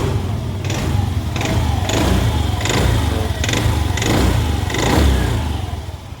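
A 2015 Honda Beat scooter engine, running rough from dry oil, revs up and down in about six repeated bursts, loud and close over a rattly idle.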